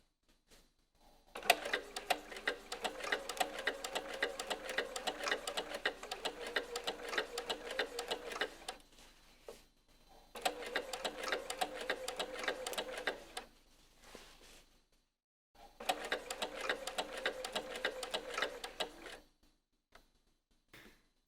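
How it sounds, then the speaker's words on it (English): A sewing machine runs a long double-length basting stitch along a jeans fly, three steady bursts of fast rhythmic needle clatter separated by short pauses, close and fairly quiet. "I have a basting setting on my machine that does a double length stitch."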